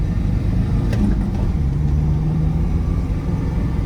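Ford Endeavour SUV's 3.0-litre engine pulling hard during an overtake, a steady loud low rumble with a rising rev swell, continuous and close throughout.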